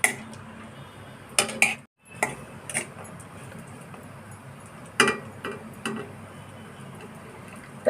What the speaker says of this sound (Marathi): तुपावर चांगलं परतून घ्यायचं आहे.